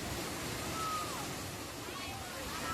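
Huai Luang waterfall in Ubon Ratchathani pours in a loud, continuous broadband roar of rushing water, steady throughout and close by.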